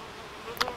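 Honey bees of the Buckfast and Carniolan lines buzz faintly at a queenless hive, a brief insect drone rising near the end over quiet background.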